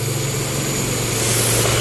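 Honda Fit engine running with a misfire and low power, a loud, close, steady low-pitched hum with faint uneven pulsing under a constant buzz.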